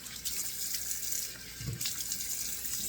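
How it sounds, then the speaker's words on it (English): Cold tap water running steadily into a sink and splashing, a continuous close hiss with small splash bursts, no talking. "So of course now I want 2 splashes of cold water."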